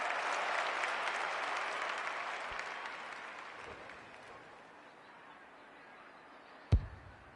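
Crowd at a women's football match involving Collingwood breaks into loud applause and cheering that gradually fades over several seconds, followed near the end by a single sharp knock.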